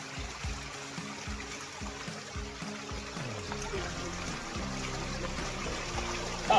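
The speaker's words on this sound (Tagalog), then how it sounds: "Ragasa po yung tubig dito" A fast-flowing stream rushing and splashing continuously at close range, with faint voices and irregular low thumps mixed in.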